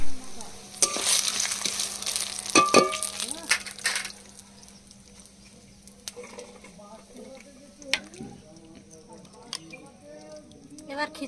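Sugar hits hot oil in a pan while khichuri is being cooked, erupting in a loud crackling sizzle for a few seconds before easing to a quieter simmer with occasional clinks, and a voice is heard speaking.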